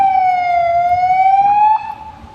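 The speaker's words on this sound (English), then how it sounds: "That is an ambulance." An ambulance siren on a road sounds loud and close as a steady wailing tone that slowly rises in pitch, then fades quickly as the vehicle passes.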